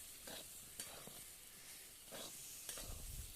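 Soybean chunks are stirred in a frying pan, giving a quiet steady sizzle broken by a few soft scraping strokes of the spoon, alone with no talk.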